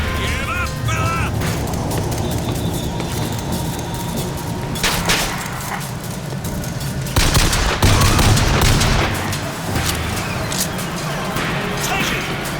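Gunfire erupts in BioShock Infinite, with rapid bursts and fusillades of shots, crashes and mechanical clatter under shouted voices, peaking loud around the middle.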